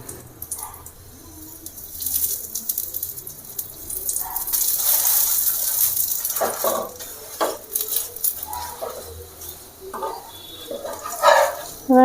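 Aloo paratha fries in white oil on a tawa with a soft, steady sizzle. A spatula scrapes and clinks against the pan in irregular bursts.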